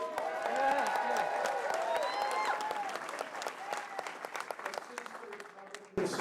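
A political rally crowd breaks into loud applause and cheering, with dense clapping, whoops and shouting voices throughout before a brief drop near the end.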